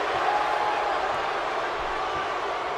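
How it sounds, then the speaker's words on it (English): A wrestling crowd roaring during a match, a steady dense wash of cheering and noise filling the arena, with no clear single voice. "And the crowd loving it."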